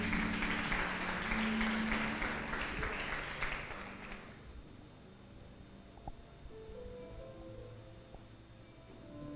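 A church congregation applauding, a dense sustained clapping for about four seconds that then fades out, leaving quiet room tone with faint scattered thuds.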